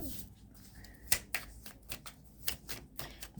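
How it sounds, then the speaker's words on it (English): Tarot cards shuffled by hand, with a run of crisp riffling snaps and soft shuffling rustle close by and at moderate level, alone without speech. "if you'd like to watch me shuffle, here I am."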